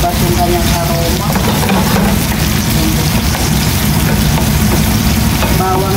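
Onions sizzle and fry loudly in a pan with oil while cooking ginataang kamansi, a dense, constant crackle with some stirring, close up throughout.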